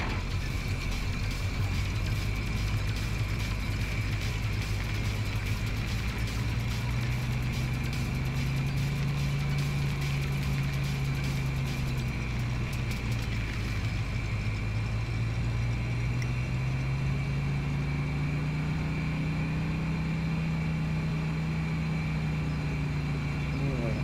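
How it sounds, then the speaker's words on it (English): A pickup truck's 350 V8 idles in Farming Simulator with a continuous deep burble whose pitch drifts slightly up and down, holding steady and close throughout. "I do love the sound of this truck. It's got a real 350 V8 sound to it."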